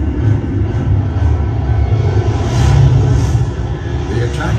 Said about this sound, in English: 267 more planes jump skyward into the morning light.